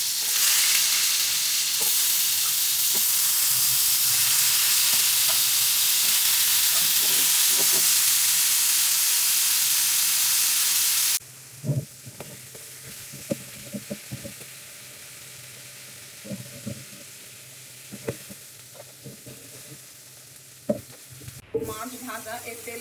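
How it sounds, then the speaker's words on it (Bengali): Pangas fish frying in hot oil after aubergine, giving a loud steady sizzle that suddenly drops to a quieter crackle with scattered clinks and stirring sounds, with no talking. "এখন মাছ ভাজি করব।"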